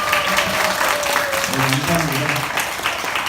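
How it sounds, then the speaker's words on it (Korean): A church congregation gives a welcoming round of applause for members of the Yeongdeok–Uljin mission, steady clapping under a voice speaking at the start. "환영의 박수 한번 들어주세요"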